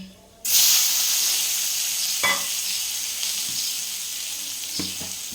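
Dried mango pieces hit a hot pan and burst into a loud sizzling hiss that settles into a steady frying crackle, with a few light clinks of stirring, close by.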